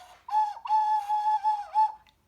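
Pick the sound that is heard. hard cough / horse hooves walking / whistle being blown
whistle being blown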